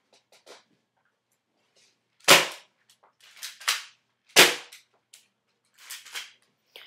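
Several sharp snapping pops from a 275 FPS spring airsoft Desert Eagle pistol, fired one at a time at irregular intervals, with faint clicks and handling noise between shots.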